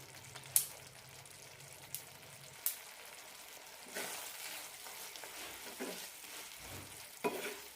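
A spicy-sour bitter gourd tamarind curry simmers in a pan, with a soft continuous bubbling and sizzle, a few sharp clinks and stirring scrapes breaking through the steady low cooking noise.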